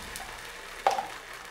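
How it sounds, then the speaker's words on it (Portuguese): Crepioca batter frying in oil in a pan, a soft steady sizzle with a brief louder crackle partway through, close and alone without talk. "E vou deixar ela fritar."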